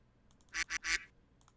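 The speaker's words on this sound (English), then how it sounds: "There's a duck again." A duck quacks three times in quick succession at close range, loud bursts separated by brief gaps, with faint clicks before and after.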